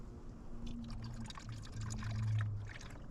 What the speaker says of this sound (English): we take our fresh bottle, open her up, and we pour